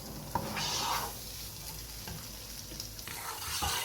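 Grated carrots for gajar barfi cook over low heat in a pan, with a steady close sizzle and frying crackle under repeated scraping strokes of a stirring spoon, and no voices.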